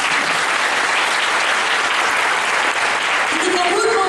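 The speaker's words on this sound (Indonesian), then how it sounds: "Berikan dulu tepuk tangan" Sustained applause from a large crowd at a church revival service fills the whole stretch, steady and dense, with a faint voice rising near the end.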